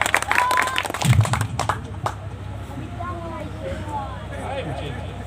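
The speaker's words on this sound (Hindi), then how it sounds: "थोड़ा ताली बजा दीजिए बच्चे लोग" Children clap loudly at a magic-debunking show. A burst of dense clapping lasts about two seconds, then thins out and fades into quieter room sound.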